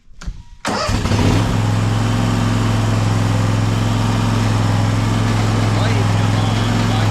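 A riding lawn mower engine cranks briefly and catches, then settles into a loud, steady close-up running drone that continues to the end.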